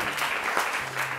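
A short burst of dense audience applause at an evening French television game show, a continuous bright clatter of many hands heard close and alone.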